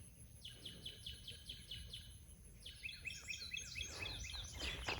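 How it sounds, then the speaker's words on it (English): Birds sing outdoors in a quiet rural setting near a barn, with repeated bright chirping phrases and trills at moderate distance over faint insect buzz, no voices. "Bird song, such a cool thing"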